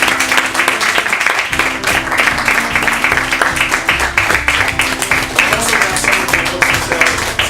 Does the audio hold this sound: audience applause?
yes